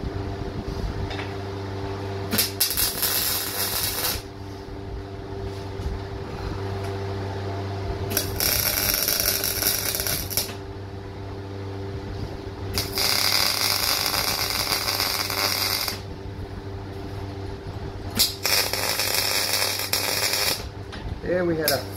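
Tack welding on a steel under-bench storage unit in a workshop: four crackling arc bursts of a few seconds each, separated by pauses, over a constant low machine hum.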